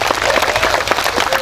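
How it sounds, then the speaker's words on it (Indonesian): An audience at a Bugis-language Islamic sermon by Ustad Nur Maulana claps, a dense, lively burst of many hands. It is close and continuous, with faint crowd murmur beneath. "Tepuk tangan dulu untuk Islami Tindak"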